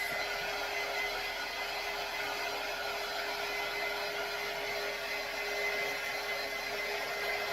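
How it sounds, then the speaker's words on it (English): A handheld heat tool blowing steadily over a DIY home décor craft piece, a loud, constant whooshing hum with a faint high whine, unbroken throughout and no talking. "we need to bring our heat tool back in. Let's go ahead and dry it."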